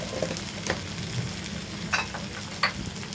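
Muri ghonto, a Bengali fish-head and rice dish, cooking in a pan as ghee goes in, giving a low steady sizzle with occasional stirring clinks and scrapes close by, no talking.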